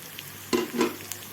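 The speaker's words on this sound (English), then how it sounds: "And sauteing it together with the other veggies." Capsicum with spring onions and other vegetables sautés in a pan, a soft frying hiss broken by two quick stirring scrapes close by.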